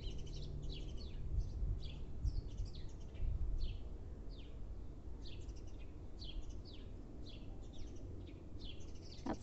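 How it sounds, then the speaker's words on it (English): Birds sing and chirp in a home garden, with repeated short high calls spread across the whole stretch. A low rumble and some background noise sit beneath them, and no one speaks. "Hear the birds?"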